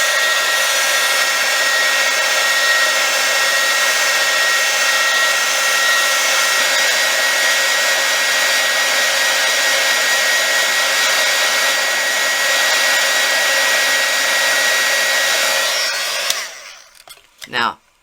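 A heat tool warms a polymer clay Mardi Gras mask pendant with a loud, constant blowing whir that holds steady for about sixteen seconds, then cuts off and winds down into quiet.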